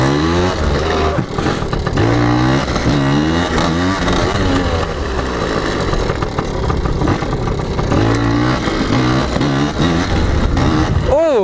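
A PIWI 80 motorbike revs during wheelie practice, its small engine rising and falling through repeated throttle blips, loud and close throughout with a voice talking over it.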